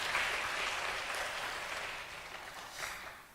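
Steady applause from a church congregation at a Sunday worship service in Pyeongtaek, welcoming a newly registered member; a dense wash of many hands clapping that holds for the whole stretch and eases slightly toward the end.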